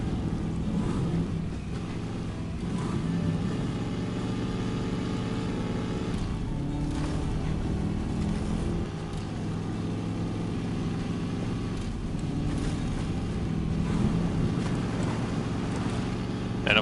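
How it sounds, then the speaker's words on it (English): Low, rumbling truck engine of the Project 2067 grinds along off-road in SnowRunner, a steady muddy drone with slight surges and faint wind-like noise. "let's see what this little Project 2067 can do off-road"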